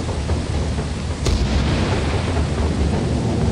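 Thunder from a lightning strike in the video game Lethal Company, a heavy rumbling boom with a sharp crack partway through over steady rain-like noise, with no talking.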